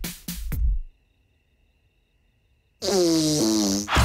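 A comic fart sound in the Ukrainian-dubbed trailer for Pitch Perfect 2: a few loud, short, low bursts, then silence, before a voice speaks.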